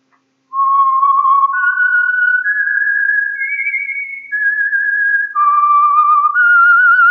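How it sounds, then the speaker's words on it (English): Whistled theme of The Whistler radio program, a lone human whistle tracing a slow rising and falling melody of sustained clear notes, loud and close after a brief silence, no talking over it. "the signal to listen for is this whistle that identifies the Signal Oil program, The Whistler."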